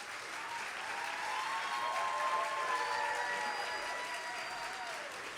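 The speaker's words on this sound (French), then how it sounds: "je vous propose de l'applaudir très fort" Warm applause from a university concert audience welcoming the singer, a dense sustained wash of clapping that swells slightly midway, with faint tonal sounds underneath.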